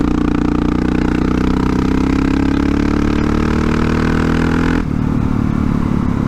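A Honda CRF450RL dirt bike fitted with a Rekluse clutch cruising in sixth gear at low speed, a loud close engine drone with a slowly rising pitch that drops off abruptly near the end, accompanied by mechanical clatter.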